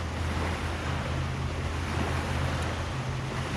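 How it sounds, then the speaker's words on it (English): Boat wake waves on a river lap around a kayak, a steady dense watery wash with low rumble, close and even throughout, with no talking. "This is called wake, which is waves produced by boats"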